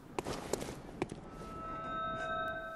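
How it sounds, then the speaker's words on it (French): Bell resonance in the video game Bloodborne: three sharp metallic strikes in quick succession, then a sustained ringing tone that lingers faintly, heard fairly close without talk. "Ça là, c'est bien une résonance de cloche."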